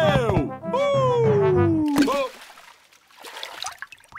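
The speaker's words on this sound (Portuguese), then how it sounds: "Poças de lama, aqui vou eu!" In a Peppa Pig cartoon the pig jumps into a muddy puddle after a cheerful shouted line, making one sharp splash followed by softer dribbling and sloshing.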